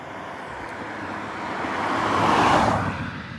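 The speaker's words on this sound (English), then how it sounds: "we saw a car" A car passes on a main road, a broad rushing road noise that swells to a peak about two-thirds through and then starts to fade, heard alone.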